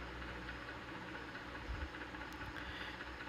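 Motorbikes at a crowded hilltop site on Pakistan's Independence Day eve, a steady low engine rumble with idling and knocking over a dense outdoor background, no voices.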